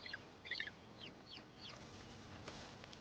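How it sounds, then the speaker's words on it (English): Young rhea chicks, flightless birds in the Argentine mountains, give soft high peeping calls in a few short bursts over a faint background hiss. "These chicks all hatched within 36 hours and have been on the run ever since."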